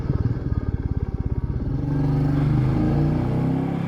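A Royal Enfield Meteor 350 motorcycle engine fires up with a rapid, even single-cylinder thump, then swells into a steady, loud revving roar close by.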